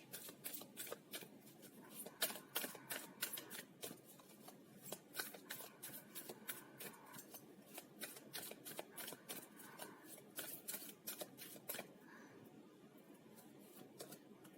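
Tarot cards are shuffled by hand in rapid, crisp riffles and flutters, close and clear, continuing in quick bursts with brief pauses over a quiet background.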